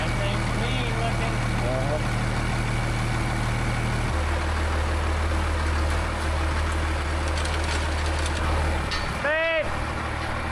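Engine of a 12-valve Jaguar double cab off-road wrecker truck idling, a steady low rumble that shifts pitch partway through, continuous and close, with background noise over it.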